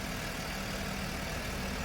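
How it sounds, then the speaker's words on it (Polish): A car engine idles in a low, steady clatter, an ordinary small motor rather than a V8, running evenly for a couple of seconds at moderate volume with no voices. "Musicie przyznać, że wspaniały dźwięk genialnego silnika."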